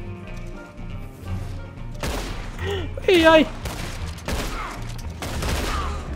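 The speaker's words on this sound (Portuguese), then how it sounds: "Ó, bala. Bala tá comendo." Gunshots ring out in a Red Dead Online shootout, a few sharp reports spread across the moment with an echoing tail, while players talk and exclaim over them.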